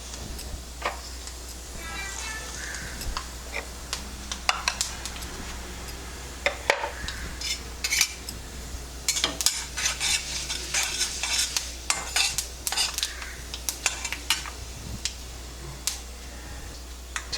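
Nigella seeds and other spices fry in a pan for grape chutney, with a low steady sizzle under frequent light metallic taps and scrapes of a spoon stirring, close up and without speech.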